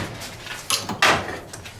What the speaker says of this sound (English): Let's close this door down.